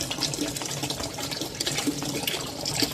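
Water runs from a garden hose beside an aquaponics barrel setup as a steady close hiss and splash that continues with no pauses, and nobody speaks.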